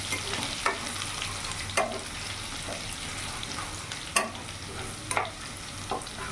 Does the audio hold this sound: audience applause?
no